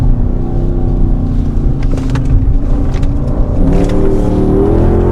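A 2013 Dodge Charger R/T engine revs hard on a downshift into a corner, heard loud and close from inside the car as a deep, rising roar with no talk.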